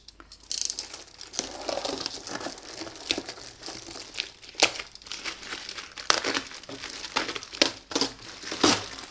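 Crinkling plastic packaging being torn and peeled open from around a car steering wheel cover, close and busy with irregular rustles and sharp crackles.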